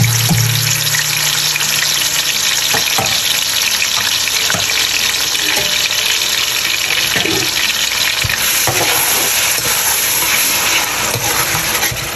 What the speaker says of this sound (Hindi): जब ऑयल थोड़ा गर्म हो जाए तो हम उसमें प्याज, लहसुन और अदरक का पेस्ट डाल देंगे।